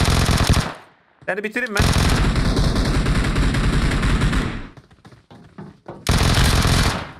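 Rapid automatic gunfire in the mobile battle-royale game PUBG Mobile, loud sustained bursts separated by short gaps, with someone speaking briefly between volleys.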